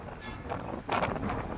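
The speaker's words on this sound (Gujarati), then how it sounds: "પવનની સાથે ઘણી માત્રાઓમાં ડસ્ટ ઉડી રહી છે." Strong wind sweeps dust across open ground in Bhachau, roaring and buffeting the microphone in uneven gusts, loudest toward the end.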